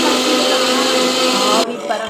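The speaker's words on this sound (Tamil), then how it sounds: "இப்போ இந்த தேங்காய் எடுத்து நம்ம திருவி அரைக்க ஆரம்பிச்சிருவோம்." Mixer grinder grinding grated coconut, a loud, close, steady whirring drone that cuts off sharply near the end, followed by quieter room noise.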